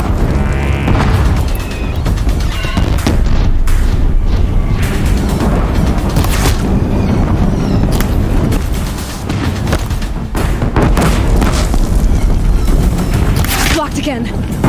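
Deathbringer machines fire heavy guns at a bridge in Horizon Zero Dawn's final battle, with rapid bursts of shots and deep booming blasts piling up loudly and continuously, a brief dip midway before the barrage resumes.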